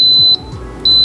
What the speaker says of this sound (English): it will beep a couple times and say on